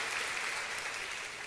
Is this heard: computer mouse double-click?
no